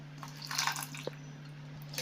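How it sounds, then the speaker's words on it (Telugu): Soaked ingredients and their water are poured into a cooking pot for a moong dal sweet, giving a quiet drip and splash with a brief pour near the middle. "ఇవి ఇలాగే ఈ వాటర్తో సహా వేసేసుకోవాలి"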